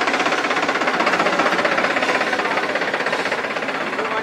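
A new 42 HP Farmtrac tractor engine running, a loud, close diesel chug with a rapid, even knocking pulse, steady throughout.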